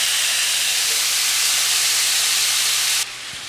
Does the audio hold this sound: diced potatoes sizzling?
yes